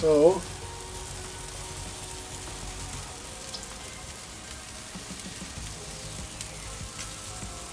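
Barbecue chicken in red-tinged sauce sizzles steadily on a grill griddle, a soft continuous frying hiss close by, with a brief word spoken at the very start.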